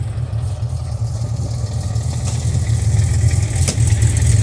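A Porsche engine runs steadily from inside the car as the drive begins, a low droning hum that swells slightly, with one brief click near the end.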